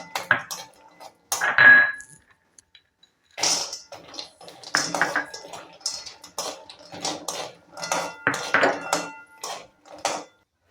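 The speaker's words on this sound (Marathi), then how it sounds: "यामध्ये सर्व ड्रायफ्रूट घालून मी परतवून घेणार आहे" Dry fruits are stirred and roasted in ghee in a kadhai, giving irregular bursts of rattling, clinking strokes against the metal pan separated by short silences, close and clear with no talking.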